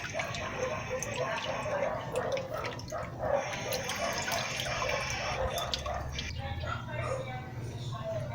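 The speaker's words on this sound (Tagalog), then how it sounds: "habang may space diyan, patuloy na magdidrip yung tubig" Water flows and drips into a tank through a float valve, a continuous trickling splash close by, while someone talks over it.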